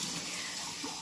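Water poured into pizza dough makes a continuous, close rushing pour lasting about a second, steady and unbroken with no talk.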